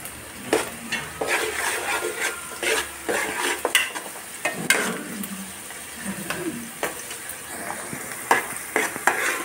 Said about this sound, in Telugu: ఉల్లిపాయ బాగా వేగనివ్వాలి.